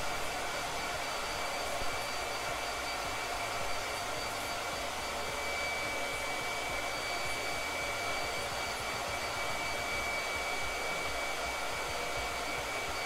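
Hair dryer blowing continuously at close range, a steady whirring roar with a high whine running through it, unbroken for the full length with no voices.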